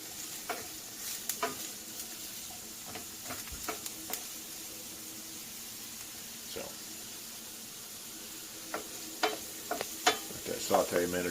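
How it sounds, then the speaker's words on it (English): Onion sautéing in a pan on the stove, a faint sizzle beneath scattered scraping and tapping of a utensil, with a few louder clatters toward the end. "Saute a minute or two."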